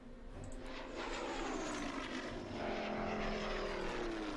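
Steady drone of a World War II propeller plane engine in a strategy video game, a continuous, even hum that holds at a constant level throughout with no voices over it.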